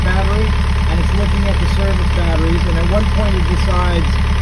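An engine idles steadily after starting, giving a constant, loud low drone that runs unbroken throughout while someone talks over it.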